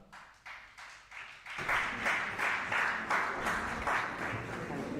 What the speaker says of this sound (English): The applause should be loud.